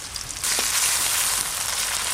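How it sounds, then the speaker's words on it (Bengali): Chopped onion, ginger and garlic paste fry in hot oil with nigella seeds in a pan, a steady loud hissing sizzle that swells suddenly and then holds evenly, close by with no talking. "পেঁয়াজ আদা রসুন একটু ভালো করে ভাজা ভাজা হোক"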